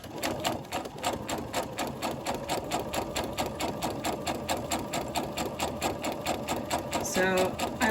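A domestic sewing machine stitches a straight seam, giving a fast, even mechanical rattle of needle strokes that runs steadily throughout, close up, with a brief higher clatter near the end.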